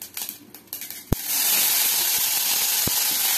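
Chopped small mangoes dropped into hot mustard oil crackling with mustard seeds set off a sudden loud sizzle after about a second, which keeps up as a strong, steady hiss to the end. A quieter spatter comes before it.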